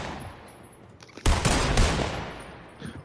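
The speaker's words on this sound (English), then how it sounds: "Both of y'all are shooting at me." Gunfire in a multiplayer shooter video game: a burst of loud, rapid shots erupts just past the one-second mark and rolls on for over a second before trailing off into scattered quieter noise.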